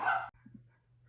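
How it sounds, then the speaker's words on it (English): A small dog gives one sharp, high-pitched bark, fairly close, followed by a couple of faint soft yips and near quiet. "Sorry about the dog barking in the background."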